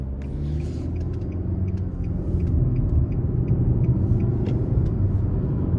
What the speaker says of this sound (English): the sound that I get from the engine, the transmission, I actually like